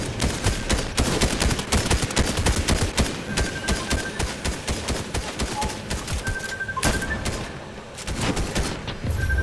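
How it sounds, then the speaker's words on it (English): An enemy player's gunfire in Fortnite rattles out in rapid, loud, close bursts, a steady stream of automatic shots with a short lull before more firing. "He's shooting at me."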